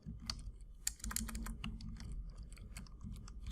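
Rapid typing on a computer keyboard during drawing work in Vectorworks, with quick, close, crisp key clicks in a steady burst and no talking.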